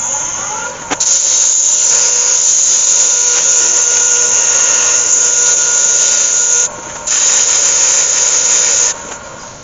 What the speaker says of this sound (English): I've got 120 grit sandpaper. I'll start sanding that.